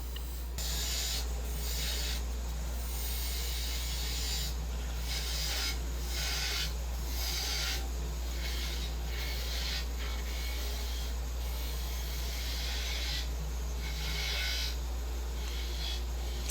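A woodturning lathe hums steadily while a tool smooths the rim of a mimosa wood box, producing soft repeated rasping passes over a constant low drone.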